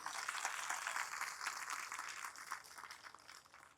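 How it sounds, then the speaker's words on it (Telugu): Applause from an audience at a village religious gathering with a guru's discourse, a dense steady patter of many hands clapping that carries through the whole stretch and eases slightly toward the end, with no voices over it. "అందరికీ ఒకసారి గట్టిగా చప్పట్లు కొట్టాలి."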